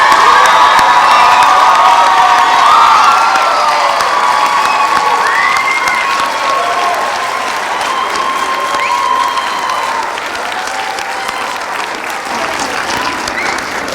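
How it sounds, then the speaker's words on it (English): Audience at an international school speech and prize giving day applauds and cheers, sustained clapping with whoops and shouts filling the hall for the whole stretch, loudest at the start and easing slightly toward the end. "we applaud you, we acknowledge you"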